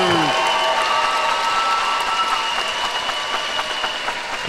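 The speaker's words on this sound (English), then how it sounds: "Ladies and gentlemen, let's give a round of applause for both of these" Muay Thai event crowd applauds both fighters after the bout, continuous dense clapping with some cheering, a short tonal voice sweep at the start and a sustained hum underneath.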